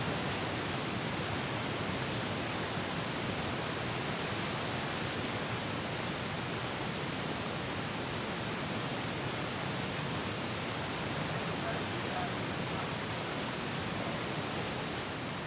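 A constant broadband whoosh of an electric fan, even and unchanging throughout, steady and fairly loud with no voices.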